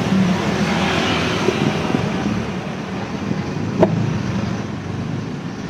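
Steady road and engine rumble heard from inside a cab moving through city traffic on a hot day, a constant muffled drone with a brief bump or click near the end, no voices.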